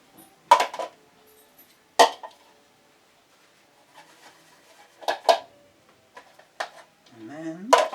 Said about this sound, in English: first you take the lower plates out